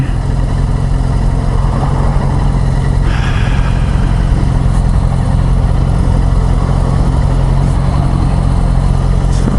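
A Yamaha FZ6R 600cc sport touring motorcycle in traffic, its engine droning steadily and loud at close range, with a low constant rumble, wind noise and a brief shift in tone partway through.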